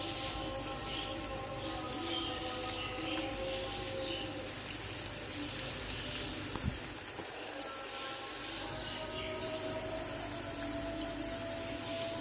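Besan (gram flour) pakoras sizzle steadily in hot oil for curry pakora, a continuous dense crackle and hiss with small pops, close and fairly loud throughout, with a brief thud near the middle and no talking.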